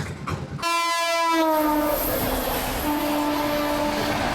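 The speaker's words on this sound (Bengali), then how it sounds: "বন্ধুরা কুমারডুবি থেকে ট্রেন অলরেডি ছেড়ে দিয়েছে" A train pulls out of Kumardubi station, its loud horn blaring in a long sustained blast right after a brief gap, with rolling wagon rumble continuing underneath.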